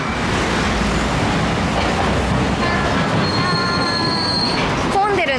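A Nagasaki streetcar rumbles past close by, its wheels squealing and rails clattering in a steady loud rush, with a rising metallic whine near the end.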